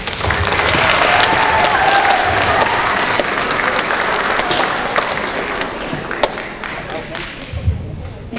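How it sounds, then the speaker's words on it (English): Loud, sustained applause from a school concert audience welcoming a middle school concert choir at a choir festival, with dense clapping that fills the hall and slowly thins toward the end. "Under the direction of Melinda Murdoch, please join me in a warm round of applause for the Jackson Middle School Concert Choir."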